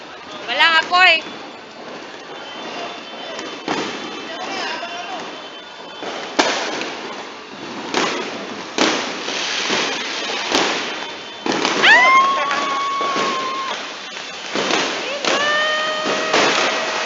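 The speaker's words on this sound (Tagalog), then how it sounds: "Ayun na, may fireworks sa dulo." New Year fireworks burst in repeated sharp cracks and pops at varying distances over a steady background hiss, with whistling rockets rising among them while people cheer and talk.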